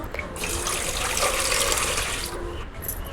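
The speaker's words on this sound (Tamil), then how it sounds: "இட்லி பானையில் தண்ணி ஊற்றி வச்சு" Steady stream of water splashing into an idli pot, continuous and fairly close, with no talking.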